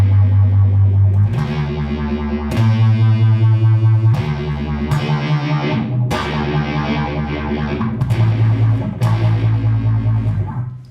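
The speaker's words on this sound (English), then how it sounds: "If we raise the speed up, a lot more warbling, it gets a little pitchy, but you'll hear that effect going at a much faster rate." An electric guitar runs through a phaser pedal set to a fast speed, chords sweeping in a rapid, pitchy warble with distortion, loud and continuous across several strummed chords.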